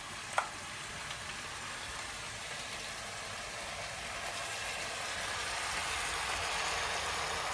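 Chicken stock poured into a hot pot during a pork loin recipe sizzles in a steady, fairly quiet hiss after a brief clink, and the sizzle swells slightly toward the end.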